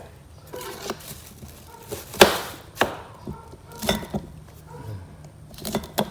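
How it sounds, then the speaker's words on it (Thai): A knife chops food on a board in irregular sharp knocks, some louder than others, with quiet clatter in between and no talking. "หั่นลงไปเลยครับ"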